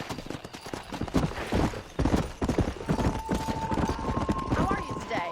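Galloping horse hooves in the video game Red Dead Redemption, a fast, loud, continuous clip-clop rhythm up close, with voices speaking over it.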